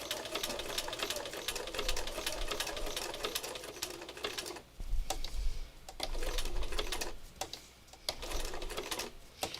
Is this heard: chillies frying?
no